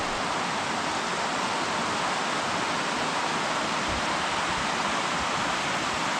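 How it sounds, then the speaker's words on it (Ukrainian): Steady, broadband rush of a mountain river in the Carpathians, loud and continuous like a fast river nearby, with no voices. "Річка гірська."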